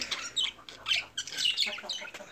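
A female cockatiel squawks in a few sharp, shrill bursts from close by during outdoor sunbathing, fairly quiet overall.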